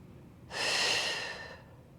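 A single steady exhale during an exercise repetition, about a second long, breathy and close, rising then tapering off, with no talking.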